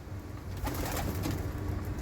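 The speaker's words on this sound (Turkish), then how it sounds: "Burada da güzel kuşlar var." Soft cooing of doves or pigeons sits in steady outdoor noise, with faint rustling and distant bird activity around it.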